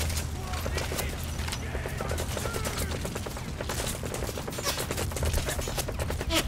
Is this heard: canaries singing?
no